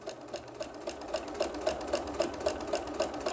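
Sewing machine stitching X patterns through fabric and batting for a bowl cozy, a steady fast run of even needle strokes, close and continuous with no talk.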